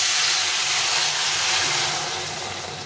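A little water is poured into a hot pan while cooking a chun fish chorchori, setting off a loud, close steam hiss that gradually softens as it continues.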